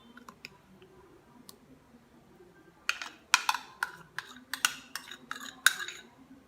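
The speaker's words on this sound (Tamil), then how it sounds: "நல்லா கலக்கி விட்டுற வேண்டியதுதான்" A spoon stirs mango pulp into squash syrup, first with a few faint clicks and then a burst of quick metallic clinks and scrapes against the container, close and fairly loud, with no talking.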